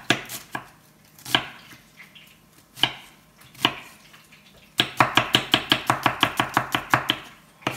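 A knife chops an onion on a board, first in a few spaced single strokes, then in a rapid, even run of crisp close cuts, with no talking.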